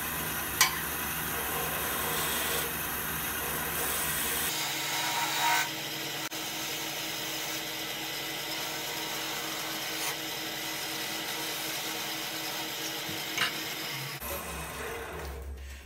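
A woodturning tool cuts a bead into the base of a natural-edge wooden goblet spinning on a lathe, giving a steady scraping and shaving rasp with a few sharp ticks, close and continuous.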